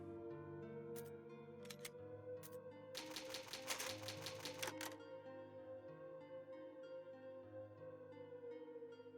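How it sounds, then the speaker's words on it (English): Old typewriter in Resident Evil HD Remaster, a few sharp isolated key strikes followed by a quick burst of rapid typing, set over a sustained musical backdrop. "It's an old typewriter."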